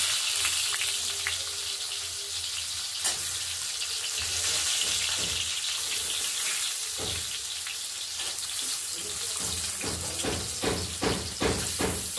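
Pointed gourd (potol) frying in a pan until reddish makes a continuous broadband sizzle, with a run of sharp stirring clicks and knocks toward the end; no talking.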